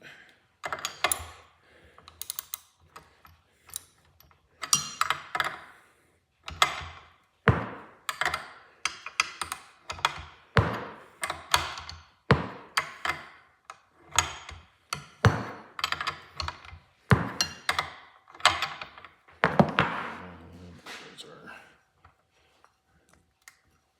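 A nut is tightened on a rod with a tool, producing irregular bursts of close clicks, taps and ratcheting knocks separated by brief pauses, with no talking.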